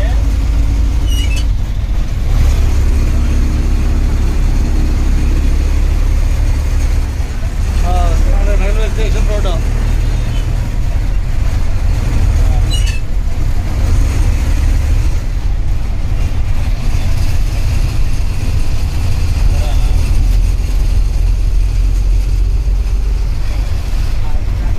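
An APSRTC bus on the Tenali to Chenchupeta route runs with a steady low engine rumble throughout, with traffic noise and a brief voice over the top.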